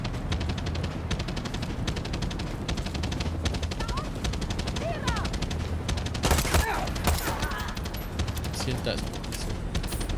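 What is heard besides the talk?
gunfire in video game Far Cry 6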